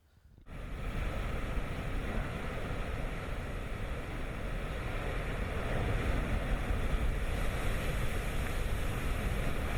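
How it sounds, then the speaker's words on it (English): Massive rogue ocean waves pound a storm-battered shore beneath a 60-foot cliff as a hurricane's eyewall nears, a continuous roaring surf mixed with gusty wind buffeting the microphone, with no voices. "Those are rogue waves."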